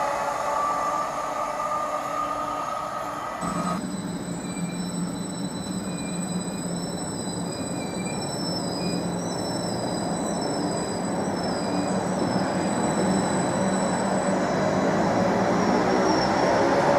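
A train passes through Stowmarket Station, a steady rumbling roll of wagons and wheels with thin high squeals drifting over it, sustained and fairly loud throughout, with no talk.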